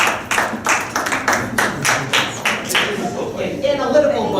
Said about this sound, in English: I heard several of you clapping.